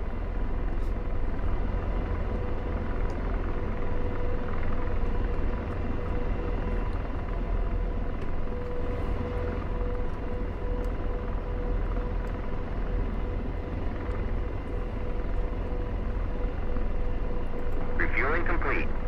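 Steady, dense rotor and turbine drone of an AH-64D Apache helicopter idling on the ground in the DCS World flight sim during refueling, loud and constant with a faint whine near the end.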